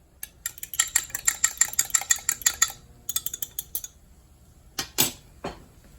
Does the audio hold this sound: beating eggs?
yes